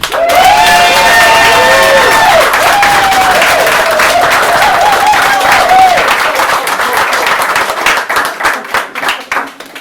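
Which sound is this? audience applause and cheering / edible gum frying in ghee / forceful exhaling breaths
audience applause and cheering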